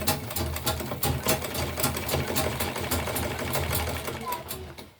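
A sewing machine stitches piping onto a fabric tote bag in a fast, steady run of close mechanical clatter, with a voice talking over it.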